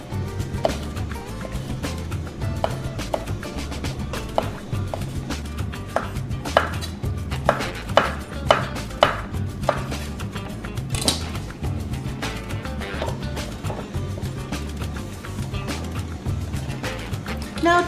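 Knife slicing mushrooms, stems first and then caps, on a cutting board, a run of soft repeated thuds and taps with brief pauses between cuts, close up over steady low background hum.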